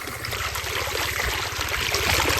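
Water trickles steadily past a makeshift dam where a person lies across a channel to hold it back, giving a continuous bubbling wash with a low pulsing rumble underneath, close and unbroken.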